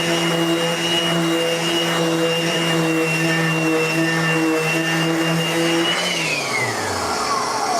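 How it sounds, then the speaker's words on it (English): A Festool vacuum dust collection system in a skateboard deck workshop runs with a loud, steady whine and hum, then winds down and fades near the end. "we've got this hooked up to a Festool vacuum system over here"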